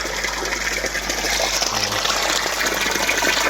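Water pours steadily through a temporary overflow pipe in an aquaponics grow bed, with a continuous gushing wash running evenly throughout and a brief low gurgle partway in.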